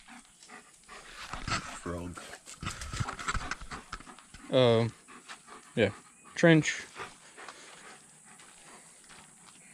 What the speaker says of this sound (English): These dogs, actually.